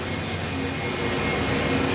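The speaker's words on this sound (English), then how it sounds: "Feed forward into the spindle and cut off and start over." A Swiss-type CNC lathe runs steadily, its spindle feeding bar stock forward and cutting off a part, a continuous even machine drone with tonal hum that holds at a constant level throughout.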